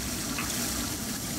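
Water gulped or poured while a character drinks in the video game Prey, a steady liquid gush with no talk over it.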